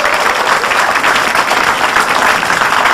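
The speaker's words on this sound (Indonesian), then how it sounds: "Tepuk tangan dong buat tahun 2014." Steady, loud applause from a stand-up comedy audience in Indonesia, dense clapping sustained evenly throughout without a break.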